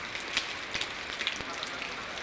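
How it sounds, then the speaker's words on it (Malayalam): Heavy rain patters onto a wet road with scattered distinct drop hits over a soft steady wash, fairly quiet and close. "ഫുൾ മഴ വന്നിരിക്കുകയാണ്"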